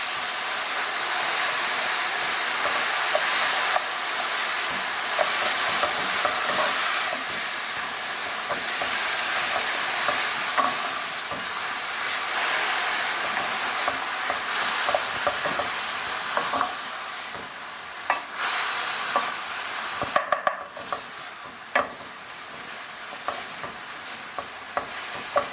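Onion and garlic sizzle steadily in a hot pan for the whole stretch, with frequent scraping and stirring clatter of a utensil, loud and close with no one talking.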